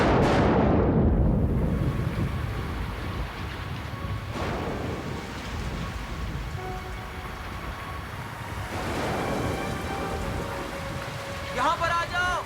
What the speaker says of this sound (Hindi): यहाँ पर आ जाओ, यहाँ पर बारिश से बच सकते हैं।